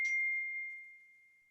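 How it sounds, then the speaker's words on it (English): A single bright bell ding from a phone's text message notification, struck once and left to ring out in a clean, slowly fading tone. "What was that bell all about? No, it's I'm getting texts."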